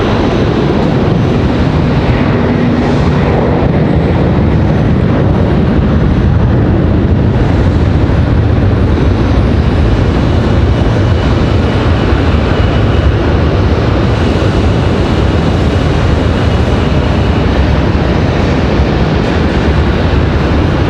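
An Aeromexico Connect airliner leaving heavy from Raleigh-Durham International, a loud continuous roar of jet engines filling the whole stretch with broad rumbling noise.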